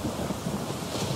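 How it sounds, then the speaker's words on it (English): Rainfall with a low thunder rumble in the video game Max Payne 2, a steady wash of noise with no voices over it. "Raining cats and dogs here."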